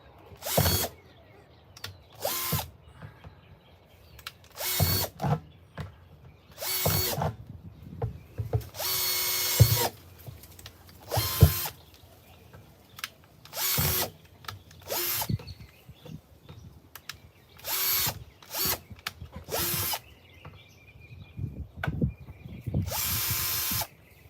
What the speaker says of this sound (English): I'm putting a lot of holes at the bottom.